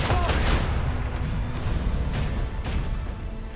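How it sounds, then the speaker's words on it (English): Macro cannons fire a broadside in the Warhammer 40k: Rogue Trader video game: a few dull, booming bursts over a muffled, rumbling battle background. "And no lasers, but broadside. Macro cannons!"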